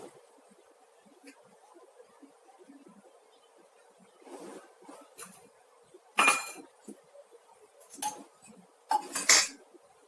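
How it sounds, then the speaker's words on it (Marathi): A metal lid set onto a pot of steaming ukadiche modak on a stove, heard as a few sharp clinks and clatters against the rim after a quiet stretch with faint kitchen noise. "झाकण ठेवूया"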